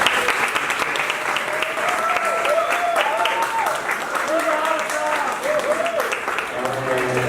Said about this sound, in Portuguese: peço uma salva de palmas, professora Márcia Okida